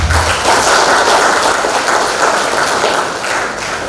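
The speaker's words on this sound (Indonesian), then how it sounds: "Tepuk tangan untuk Bapak Andreas Simatang." Dense audience applause fills a hall at a leadership seminar, steady loud clapping from many hands sustained throughout without a break and gradually easing slightly toward the end.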